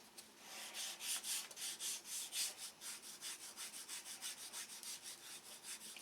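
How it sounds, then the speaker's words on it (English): Sandpaper rubs back and forth on wood in a steady rhythm of soft, rasping strokes, close and quiet, with no voices. "Take a little sandpaper and clean this up."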